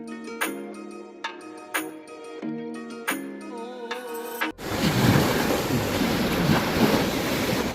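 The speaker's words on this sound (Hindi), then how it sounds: "जो लहरें बहुत ज़्यादा स्पीड में आ रही है, और साथ में देखो भाई पानी भी धीरे धीरे बढ़ने लग गया है" Fast waves surge against the Ganges shore in a loud, steady wash of water that fills the second half, following a stretch of unrelated music or tones.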